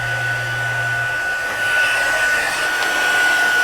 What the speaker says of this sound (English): And I'm going to bring my heat tool in now.